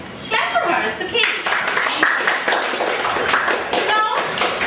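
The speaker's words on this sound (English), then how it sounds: "Clap for her, it's okay." Classroom students clap for a classmate, a short burst of scattered hand claps mixed with chatter and voices in the room.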